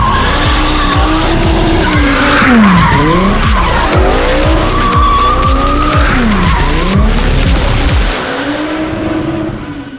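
Drift cars slide around a track near a parked jet, engines revving hard as tires squeal loudly in repeated sweeping bursts, the roar continuing for several seconds before dropping off near the end.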